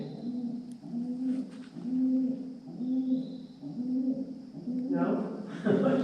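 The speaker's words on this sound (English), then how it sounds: "there's the pigeons right here" Pigeons coo inside the Rock House cave in Hocking Hills, Ohio, a repeated low, rhythmic cooing in regular phrases, close and fairly loud, echoing slightly, with brief rustling near the end.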